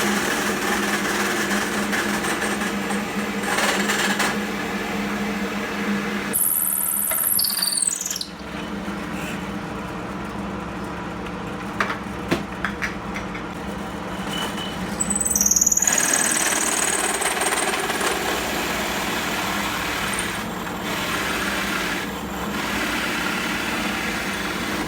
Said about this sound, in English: it was over to the drill press to drill out the holes using a 38mm hole saw